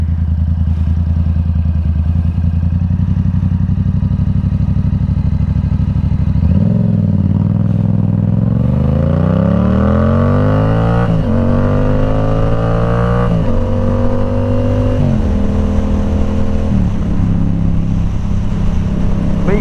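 Yamaha R7 motorcycle with an aftermarket exhaust pulling away gently from a light, idle burble rising into smooth revs through several gear shifts, loud and close from the rider's position.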